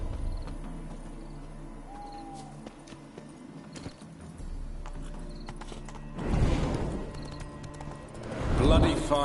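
Horse hooves clopping and a whinny in The Witcher 3, soft steady footfalls under game dialogue and ambience, with two louder bursts near the end.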